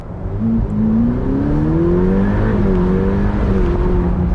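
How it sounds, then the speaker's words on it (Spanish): Ferrari F8 Spider engine revving, a loud, close, continuous deep growl whose pitch rises and dips through a couple of revs across a few seconds, with no talk over it. "No llega a sonar como los Ferraris antiguos, ya sabéis, emisiones, filtros de partículas y demás, pero sigue sonando como un Ferrari."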